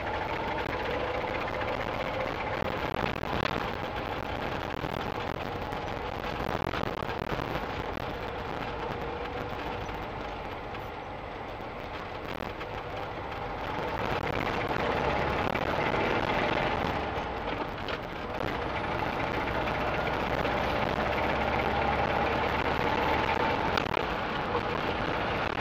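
A late-1960s VW Karmann Ghia being driven, its engine a low steady hum under road and wind noise, fairly quiet and continuous with slight swells and no talking.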